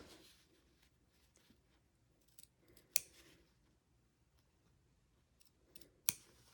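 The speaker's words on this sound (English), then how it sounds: "very carefully snip into the corners, making sure you're close to, but not cutting through any of your stitches there" Scissors snip carefully into the corners of sewn bag fabric near the stitching: quiet, close-up sewing-room sounds, with two distinct crisp snips separated by a few seconds of soft handling noise.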